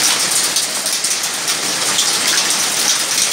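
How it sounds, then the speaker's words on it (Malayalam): Heavy hail falling with rain in Kuwait, a dense, steady hiss and patter of small ice pieces striking surfaces, loud and continuous throughout with no voices. "രാവിലെ തകർപ്പൻ ആലിപ്പഴം വീഴ്ചയാണ്."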